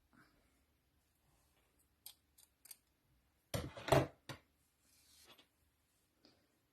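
Small scissors snipping crochet yarn in a quiet room, a couple of faint clicks followed by a louder cluster of crisp cuts near the middle, then a few soft rustles and a final light snip.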